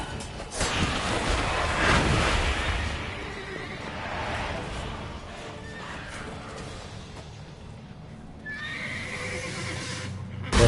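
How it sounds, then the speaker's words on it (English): A horse in The Witcher 3: Blood and Wine whinnies loudly near the start, then clip-clopping hooves and game ambience follow at a moderate level, with a second brief neigh toward the end. "Fuck that goddamn horse."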